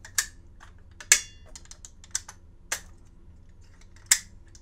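Crisp metallic clicks as 6mm ARC handloaded cartridges snap into and out of an AR rifle upper chamber, five or so sharp irregular snaps close by over a faint hum, no voices.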